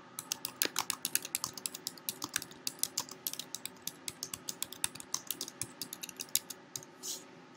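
Someone types a note on a computer keyboard, a quick, irregular run of close, crisp key clicks that keeps going steadily, with no talking.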